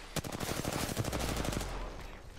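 Rapid automatic weapon fire in Apex Legends, a fast, evenly spaced stream of close, loud shots rattling for about a second and a half before trailing off, with no talk over it.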